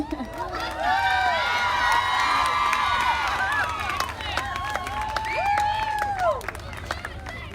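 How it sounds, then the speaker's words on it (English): Loud audience cheering for pageant contestants, whooping and shouting voices rising over steady clapping and crowd noise, with a brief dip midway before swelling again. "Keep cheering out your favorite. I want them to be able to hear you."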